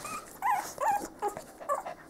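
Young puppies about three and a half weeks old give a run of short, high yips and whimpery barks, close and fairly loud, several small cries spread over two seconds with no talking.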